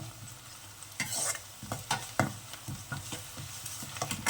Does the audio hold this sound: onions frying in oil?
yes